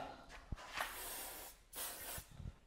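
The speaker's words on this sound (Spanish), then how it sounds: "Le vamos a poner un poquito de spray de silicona" Silicone spray applied to light spinning fishing gear: short hissing aerosol bursts, faint and close, separated by small clicks and handling noises.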